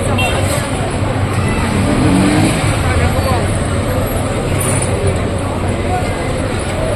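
Cars and traffic roll past on a busy Baghdad market street, a continuous loud road rumble mixed with crowd babble and nearby talk.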